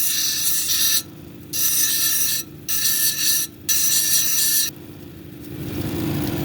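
Jasper cabochon being domed against a spinning grinding wheel, a harsh bright rasping grind that comes in several bursts as the stone is swung back and forth, with a steady low wheel hum between passes.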